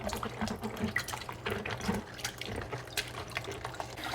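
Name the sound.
rinsing salted napa cabbage leaves under running tap water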